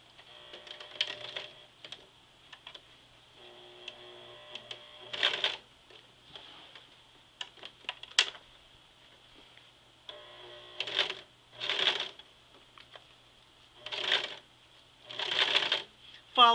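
A sewing machine stitches over the thick zipper area of jeans in short, faint bursts of rapid needle chatter separated by pauses, with a person talking quietly in between.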